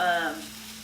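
Fruit rice sizzles briefly in a hot pan, a short burst of frying that fades quickly, close and with no voices.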